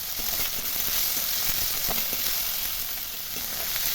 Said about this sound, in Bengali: তেল গরম হয়ে গেছে, প্রথমে দিয়ে দিচ্ছি রসুন কুচি, এবার দিয়ে দিচ্ছি আদা কুচি, এবার দিচ্ছি পেঁয়াজ কুচি